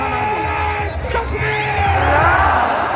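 Rally crowd shouting and cheering in a loud, sustained roar in response to a Nara-e-Takbir call, swelling toward the end with overlapping yells.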